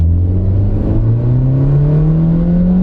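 A cheap used car accelerates from a stop, its engine droning loudly and steadily with a pitch that climbs smoothly throughout, close to the microphone with no talking.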